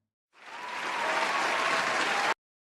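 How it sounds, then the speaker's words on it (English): A short canned applause sound effect played during a live drawing stream, swelling in quickly, holding steady for about two seconds, then cutting off abruptly into silence. "let me get a quick 2-second applause."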